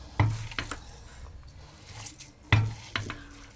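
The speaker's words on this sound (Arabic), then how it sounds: "وناخدهم بقى ونمرتهم كويس قوي كله مع بعض" Layers of meat and onion are mixed together in a pan, with scraping stirs and soft sizzling; two sharp utensil knocks stand out, spaced a couple of seconds apart.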